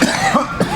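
A person coughs in a few harsh, close, loud bursts in a podcast studio, with rough throaty noise between them.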